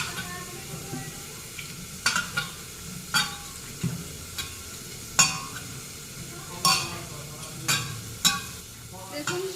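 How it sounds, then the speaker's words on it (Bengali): Okra fries in a pan under a soft constant sizzle while a utensil stirs it, giving repeated scraping knocks about once a second, close and moderately loud. "ঢেঁড়সটা তো ভাজা ভাজা হয়ে গেছে"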